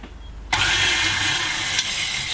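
An electric mixer beating room-temperature cream cheese for cheesecake, switching on abruptly after a quiet start and then running as a steady, loud whirring drone.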